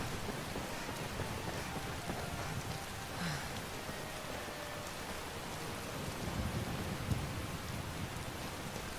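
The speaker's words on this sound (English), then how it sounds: "God, this rain!" Steady rain pours down outdoors in a dense, even hiss that holds unbroken throughout, loud and close, with no voices.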